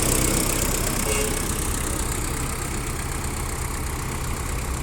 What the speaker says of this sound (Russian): Очень приятно и очень хорошо работает мотор.